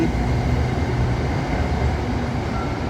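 Steady low rumble and rattle of a freight train hauled by a GEK diesel locomotive rolling along the tracks, continuous and fairly loud throughout with no voices.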